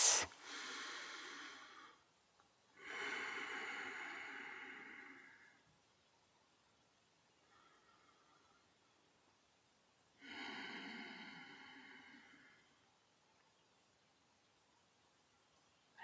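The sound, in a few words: slow deep breathing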